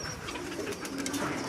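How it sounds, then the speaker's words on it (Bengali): A tumbler pigeon kept by a fancier coos softly among other pigeons, a low repeated burbling heard faintly and close, with light rustling around it and no talk. "আর এই যে আমার ফেভারিট কবুতরের মধ্যে একটা কবুতর"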